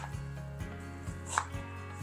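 Kitchen knife chopping a red onion on a cutting board for a pasta salad, a steady series of soft, close, rhythmic cuts at roughly half-second intervals, with no talking.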